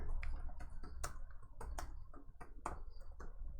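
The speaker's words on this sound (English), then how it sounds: "I gotta type it." Rapid, irregular clicks of typing on a computer keyboard, close and fairly quiet, in short bursts with brief pauses between keystrokes.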